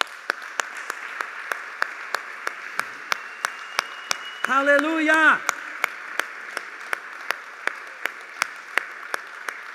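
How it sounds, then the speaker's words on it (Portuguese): A church congregation at an Easter service claps in a slow, steady rhythm, each clap crisp and even, with a voice briefly shouting out midway over the clapping. "Dá uma salva de palmas para Jesus."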